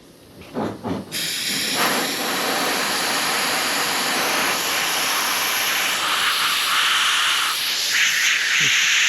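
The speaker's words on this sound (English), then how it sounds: "Air hose to evaporate it." A compressed-air hose blows a loud, steady hiss close up to dry glue in a boat compartment lid hinge, starting abruptly after a few soft clicks and continuing without talk.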